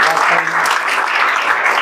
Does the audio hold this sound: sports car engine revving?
no